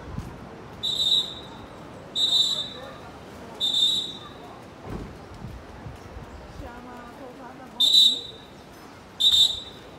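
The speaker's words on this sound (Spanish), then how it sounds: "Por eso se escucha el silbato." A lifeguard's whistle at Geribá surf beach in Búzios: five sharp, shrill blasts spaced a second or two apart over soft beach ambience, moderately distant.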